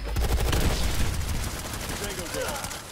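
Rapid gunfire and bursts from a multiplayer shooter video game fill the mix, with a heavy, dense low thump in the first half easing off later, while a voice talks over the action.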